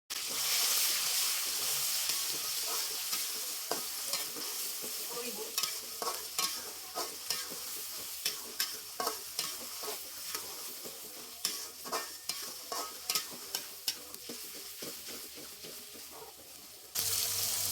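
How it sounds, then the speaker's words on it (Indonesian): A pan of spice paste sautéing with shallots sizzles steadily while a utensil scrapes and stirs in irregular clicks and taps, close and continuous. "Tumis bumbunya sampai matang, tanak, dan harum."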